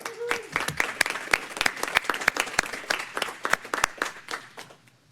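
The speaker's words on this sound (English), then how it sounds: "let's give her a round of applause" Applause from a meeting audience at a state board quarterly session, a modest group clapping steadily for about five seconds with distinct individual claps, fading slightly at the end.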